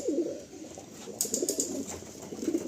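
Low, rolling coos come from Andhra Lalsira and Fulsira pigeons kept in a loft. Several birds burble steadily nearby, and a few faint high clicks sound in the background.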